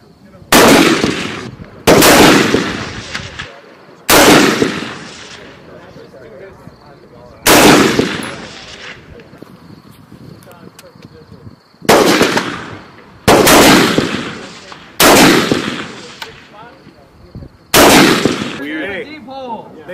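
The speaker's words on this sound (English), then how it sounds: "Shoot twice in four different positions" Gunfire at a Marine night shooting match: eight loud, sharp rifle shots, fired singly and in pairs at irregular intervals, each ringing out with a short echoing tail.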